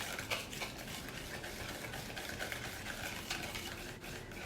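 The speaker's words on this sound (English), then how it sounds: "Give it a good stir." A spoon or whisk stirs carrot cupcake batter in a bowl, making soft, continuous scraping and swishing strokes that stay faint and close.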